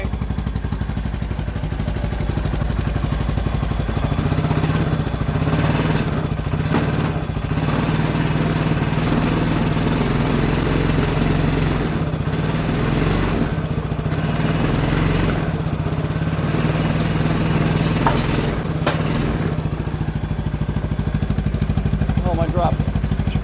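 A 2013 CFMOTO Z6 motorcycle engine runs steadily after starting, a continuous mid-pitched idle with a low hum and faint clatter throughout, as people talk nearby.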